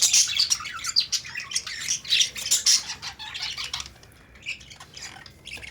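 Australian parrots squawk loudly and repeatedly at close range, harsh overlapping calls that come in bursts and then fade to a few quieter chirps.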